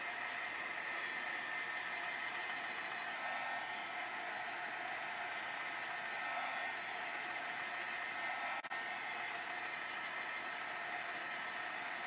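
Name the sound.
heat tool drying watercolor paint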